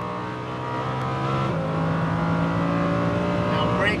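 Lamborghini Huracan V10 accelerating on the track at Las Vegas Motor Speedway, heard from inside the car as a loud, steady, rising engine drone that holds throughout.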